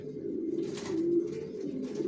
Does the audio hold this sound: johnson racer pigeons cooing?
yes